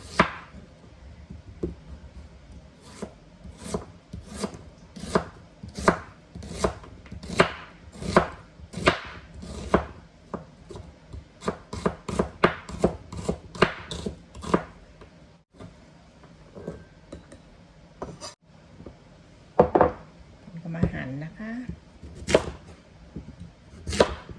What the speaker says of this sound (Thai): ขอหั่นหัวหอมก่อนนะคะ